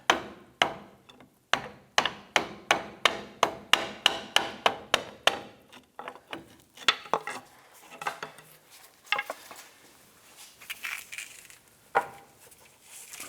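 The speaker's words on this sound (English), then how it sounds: "Using a pry bar and a hammer, we're just going to put it on the edge of that clamp and tap this" A hammer taps a pry bar against a steering rack clamp on a 2007-2014 Cadillac Escalade, a quick series of evenly spaced ringing metal strikes that turn softer and more scattered toward the end.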